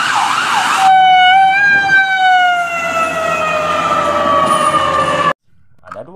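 A toy ambulance's electronic siren wails close and loud in a long descending tone that suddenly cuts off, then a few faint clicks follow.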